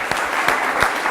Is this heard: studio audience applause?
yes